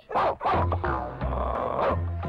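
A human voice imitates a dog, giving a rapid run of yapping barks and whining yips, loud and close.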